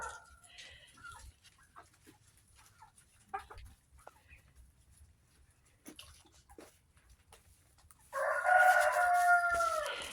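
Young roosters, long-legged and fast-growing, crow loudly and close together near the end, after a stretch of quiet farmyard sounds with scattered faint clucks and rustling.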